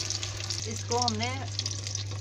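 Fish frying gently in ghee over a low flame for a Lahori masala fish fry, a soft steady sizzle with a low hum beneath and a brief voice-like sound in the middle.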